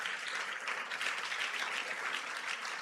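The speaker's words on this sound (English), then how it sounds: "Give yourselves a warm round of applause" Audience at the NNPC Seplat JV Pearls Quiz competition gives a steady round of applause for the finalists, a soft, continuous wash of many hands clapping heard from some distance.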